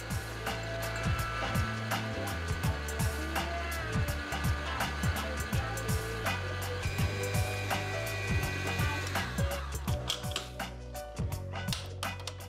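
An electric mixer runs on low speed through cupcake batter, a steady whirring hum with rhythmic clicks and knocks from the beaters against the bowl, continuous throughout.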